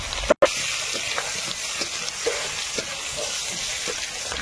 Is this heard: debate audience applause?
no